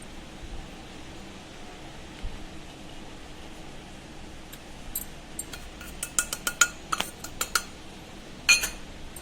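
A spoonful of powdered sugar goes into a bowl of shrikhand amid a quiet kitchen hush, a scattered run of light metal spoon clinks and taps against the dish, faint at first and then clustered near the end.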